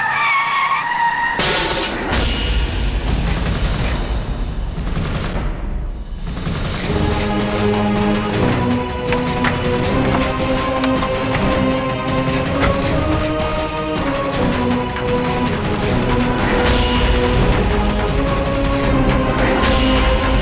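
A car skids hard and slams into another car, the long screeching tire noise giving way to a loud crunching impact and clatter that sustains densely throughout.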